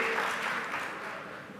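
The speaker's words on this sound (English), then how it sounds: "A round of applause." Audience clapping for a prize winner at an internet service launch event, a brief dense burst of many hands applauding that fades slightly over its short span.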